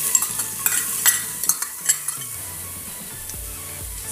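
Onion drops into hot ghee with cumin and a pinch of asafoetida, hissing as a spoon stirs it in a series of sharp scraping knocks early on, then settling into a softer sizzle with low thuds; no one speaks.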